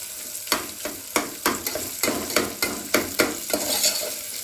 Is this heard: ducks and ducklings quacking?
no